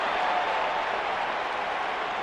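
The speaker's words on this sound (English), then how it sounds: "Wow, the crowd's on the edge of their seats" Wrestling arena crowd in WWE 2K19 roaring and cheering, a steady dense wash of noise holding at an even loudness throughout with no single voices standing out.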